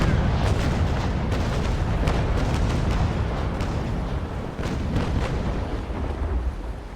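Naval sailing-warship cannons fire in repeated heavy booms during a sea battle in the game Naval Action, loud and rumbling, the shots overlapping into a sustained thunderous barrage with no talk.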